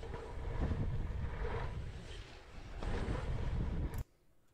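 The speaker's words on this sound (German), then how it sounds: "richtig kalter Wind." Cold wind buffets the microphone in steady, loud rushing gusts for about four seconds, then drops abruptly to a faint low hiss.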